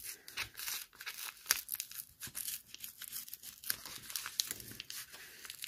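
Paper from an advent calendar bag tears and crinkles close up in a quick run of rips and rustles, faint and alone without talking.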